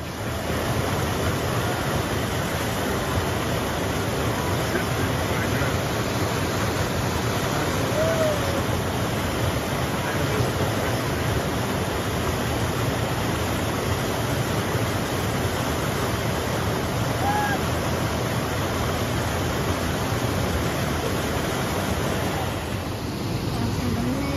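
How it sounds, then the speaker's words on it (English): A small stream flows beside a campsite on the Appalachian Trail in Vermont, a steady loud rushing wash of water that holds constant throughout with no voices over it. "Lovely little stream back"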